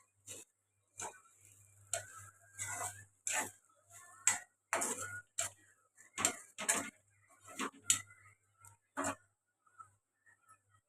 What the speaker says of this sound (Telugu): ఇప్పుడు అన్నీ వేసుకొని కలుపుకుందాం బాగా కలిసేలాగా కలుపుకోవాలి